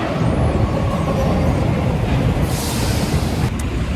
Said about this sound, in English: the train station is packed, and our train is actually coming right now